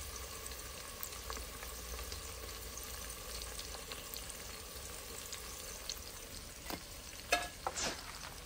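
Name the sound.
garlic and asafoetida frying in oil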